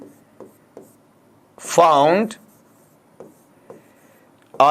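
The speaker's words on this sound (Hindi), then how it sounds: "मैं फॉर एग्जांपल यहां लिख रहा हूं आपका" Marker squeaking across a board in short repeated strokes, one long loud stretch of writing in the middle and another starting at the end, with quieter taps between; no talking.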